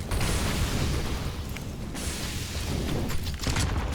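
A grenade explodes in Counter-Strike, part of a loud, dense wash of booming noise with a couple of sharper bursts standing out near the end.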